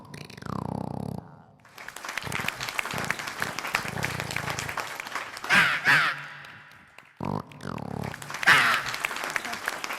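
A performer imitates a crow calling as if announcing guests, mixing spoken patter with sharp caw-like bursts, while a crowd claps and cheers in the background.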